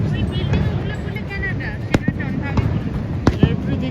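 Fireworks going off across the street on the Canadian side at Niagara Falls, a few sharp scattered pops and bangs breaking through people talking nearby.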